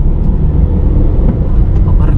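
A car engine runs at around 2000 RPM in second gear while accelerating on a road, a loud, low, steady rumble heard from inside the cabin, with a voice speaking over it.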